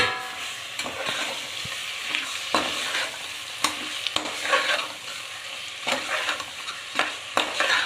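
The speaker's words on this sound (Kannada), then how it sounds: "ಈಗ ಶುಂಠಿ ಬೆಳ್ಳುಳ್ಳಿ ಪೇಸ್ಟ್ ಹಾಕಿ ಅದನ್ನು ಈರುಳ್ಳಿ ಜೊತೆ ಚೆನ್ನಾಗಿ ಫ್ರೈ ಮಾಡಿ ನಂತರ ಮಟನ್ ಹಾಕಿ" Mutton frying with onion and ginger garlic paste in a pan, a steady close sizzle broken by repeated scraping stirs throughout, with no voices.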